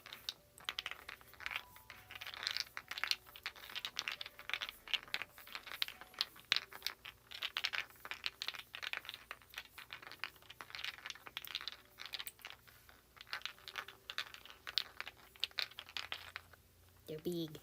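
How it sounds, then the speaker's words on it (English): Large dice, a cheap Walmart set, rattle and clatter in quick bursts close to the microphone, with talking over much of the shaking. "Can I shake the dice near the mic?"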